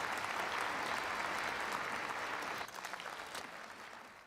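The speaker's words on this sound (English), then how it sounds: "Please give him a big round of applause" Sustained applause from a large conference audience for Stephen Harper at an opening ceremony, full and loud at first, then thinning and fading toward the end.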